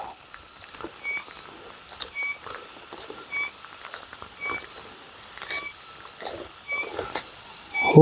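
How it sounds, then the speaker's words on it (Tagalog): Rain patters lightly on dry fallen leaves outdoors: scattered, irregular soft taps and ticks, fairly quiet and close, with no one speaking. "Nabutan ako ng ulan na."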